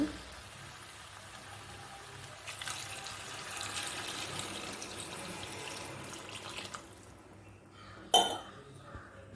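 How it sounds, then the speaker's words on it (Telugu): Water is poured into a pan of egg and flat bean curry, a soft, quiet pouring splash lasting several seconds, followed by a single sharp clink of a utensil. "కూరకు సరిపడగా వాటర్ వేసుకోండి"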